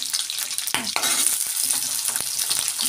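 Ridge gourd stir-fried with garlic and dried chilli, a bright hissing sizzle broken by sharp scraping and clattering stirs and a splash as the vegetables go in, close and alone.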